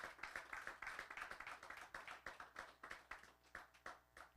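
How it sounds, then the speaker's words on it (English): A small group at a church Harvest Week career night claps for the organizing committee, distinct individual claps in a quick uneven rhythm, close and moderately loud, thinning toward the end. "Please give a round of applause for the Harvest Committee for putting this together."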